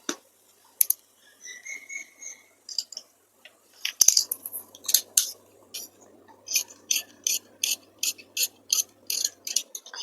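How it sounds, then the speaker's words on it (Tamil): Scissors cut salwar pant fabric in a quiet room, each snip a crisp close click, first scattered and then falling into a steady run of repeated cuts. "ஸோ இதையும் நான் கட் பண்ணி எடுத்துக்கிறேன்."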